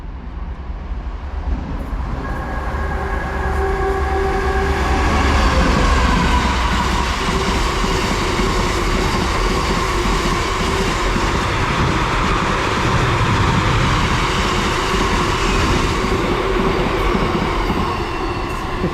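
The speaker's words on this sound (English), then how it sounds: "Okay, we've got another freight now coming through," A freight train heading for Whatley Quarry rolls through near at hand, a long sustained rumble of wagons with rhythmic wheel clatter and faint squeal, steady and loud throughout.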